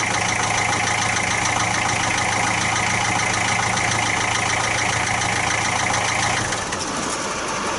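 A 1966 Austin London taxi engine runs steadily at idle with a harsh, even drone, then cuts out and fires back into a rougher, uneven idle near the end.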